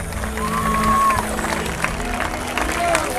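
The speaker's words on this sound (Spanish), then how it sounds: "Fuerte el aplauso del público presente aquí en nuestro estadio mexicano" Audience at a boxing championship opening ceremony in a stadium arena applauding, a steady wash of clapping and crowd noise with an announcer talking over it.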